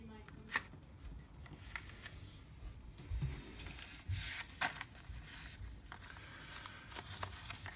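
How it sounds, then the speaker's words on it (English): Sheets of paper being folded and creased by hand for an origami five-blade pinwheel, with several soft crinkling swipes and short papery scrapes at irregular intervals, close and fairly quiet under a steady faint background. "we fold the top left corner down to the bottom edge and creasing at the bottom left corner"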